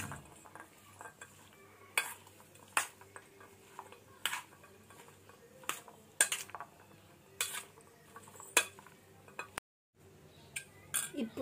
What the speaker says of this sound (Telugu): ఇలా మిక్స్ చేసుకున్న లెమన్ జ్యూస్ని ఈ మసాలాలోకి వేసుకొని కలుపుకోవాలి.